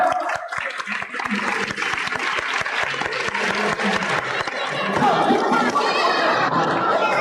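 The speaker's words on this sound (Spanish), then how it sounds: "Y un aplauso para el campeón." Circus audience applause for a champion at the 1990 Wonderland circus in Carlet, with crisp scattered claps over crowd chatter and laughter, swelling into fuller, steadier clapping near the end.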